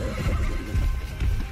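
A horse whinnies in the survival game Ark, a short, loud, rough neigh in the foreground, with faint game ambience under it.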